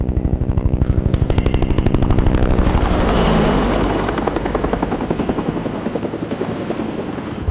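Helicopter in GTA Online, loud close rotor chop with a steady rapid beat and engine whine, the beating fading slightly into a dense roar over several seconds.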